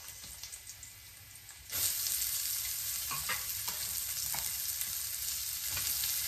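Sliced white onions hit hot oil in a pan for Filipino-style chicken curry, a quiet hiss jumping into a loud, steady sizzle with occasional scraping stirs, and no talking.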